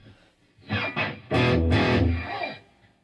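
Electric guitar played through the distortion effect of a Boss Katana MK II amp, a few loud overdriven strums and chords ringing out clearly on their own without talk.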